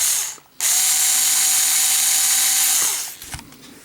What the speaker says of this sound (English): Now we have to unscrew that brass pin or screw. See if we can do it with this electric screwdriver.